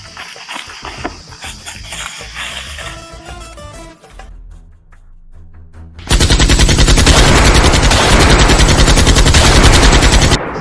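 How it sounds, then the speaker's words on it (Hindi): Sustained machine gun fire blasts in loud and dense from about six seconds on, used as a sound effect in a comedy sketch, following a stretch of music and scattered background noise. "यहाँ तो गोलीबारी होने लगी है"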